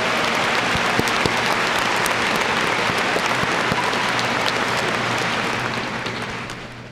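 A high school graduation crowd gives sustained applause for teachers, counselors and administrators, a broad, even roar of many hands clapping that gradually fades near the close.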